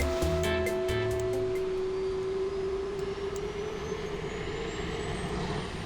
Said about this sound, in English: you should be able to hear the sound of a jet engine, or at least a jet engine noise